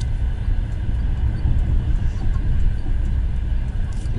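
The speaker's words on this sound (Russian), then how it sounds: "Вот и наш поезд замечательный." A passenger train, the Yellow Arrow, runs on the rails during a New Year trip, giving a steady loud low rumble from close by with no clear gaps or wheel clacks throughout.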